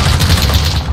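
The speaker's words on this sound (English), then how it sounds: "I'm shooting right at him." Rapid automatic gunfire in Call of Duty Modern Warfare, during a hardcore team deathmatch on the Talsik Backlot map, rattles on loud and unbroken for a full second.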